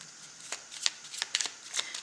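Tarot cards are shuffled close by in soft, quick riffling bursts, a series of light papery flicks and snaps at an irregular pace, fairly quiet and without speech.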